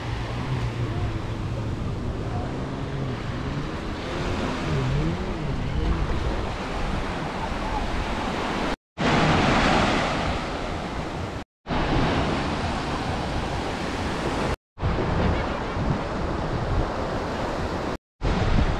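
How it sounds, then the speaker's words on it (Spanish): Sea surf at the beach in Playa del Carmen, a steady rushing wash of breaking waves mixed with wind buffeting the microphone, loud and continuous with a few brief dropouts. "así está el mar."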